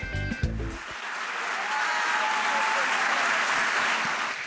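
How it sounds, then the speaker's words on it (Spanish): A congregation at a church congress applauds to welcome a pastor, the clapping swelling into a thick, sustained roar after a brief stretch of a voice over music at the start. "Recibamos con un fuerte aplauso a la pastora Igna Suárez."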